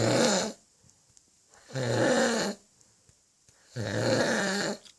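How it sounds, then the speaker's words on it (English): A man snores loudly and close by, three long rasping snores in a steady rhythm with quiet pauses between them; a drunk Irishman is the sleeper. "Listen to this fella snoring."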